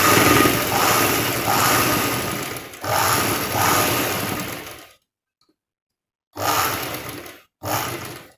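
A sewing machine runs in long bursts while stitching the folded edge of a saree, loud and close with a steady mechanical whir, then briefly stops before two shorter runs.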